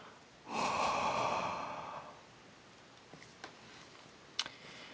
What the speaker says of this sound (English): I'll breathe on it again.